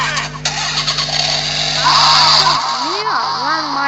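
Masked Rider Accel transformation belt toy playing its electronic finisher-move effect, a loud synthetic rev and whine with rising and falling tones and chirpy sweeps, close up and filling the short burst.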